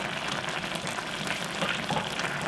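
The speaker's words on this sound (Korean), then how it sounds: "자글자글 잘 끓여." Kimchi and Pacific saury simmering in a covered pot, a close, steady bubbling sizzle with soft crackles and no break, no voices.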